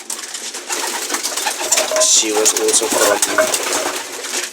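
Racing pigeons coo and call softly in a loft, mixed into a broad steady background while a person talks over them throughout.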